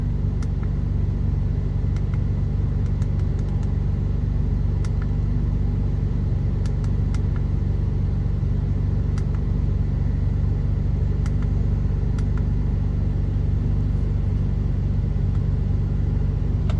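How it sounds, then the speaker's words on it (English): A Jeep's engine rumbles steadily and close throughout while reversing, a constant low drone with faint ticks above it and no voices. "I'm going to do some reversing"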